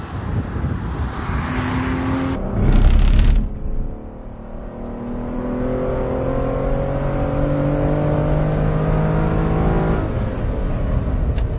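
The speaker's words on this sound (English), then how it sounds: "you'll hear just how lovely the V12 engine sounds" An Aston Martin Rapide's V12 engine roars loudly on a track, climbing through gears with rising pitch, a brief shift burst early, sustained strong acceleration.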